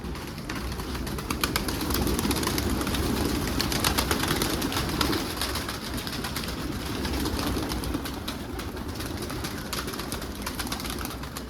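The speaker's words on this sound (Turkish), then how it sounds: "kuşları bırakıyorum" Pigeons released outdoors, a dense flurry of flapping wings mixed with soft cooing and bird calls, continuous and fairly loud throughout.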